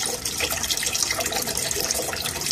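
Water is drawn through a siphon into a tank holding dry soil, a continuous close rushing, gurgling flow, steady and fairly loud with no voices.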